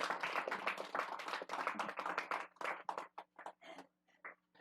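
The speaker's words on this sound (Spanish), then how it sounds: "solo a Dios dele un fuerte, pero fuerte aplauso para Dios" A church congregation claps loudly and continuously for several seconds, with rapid, uneven claps that thin out into a few scattered claps and then fade away.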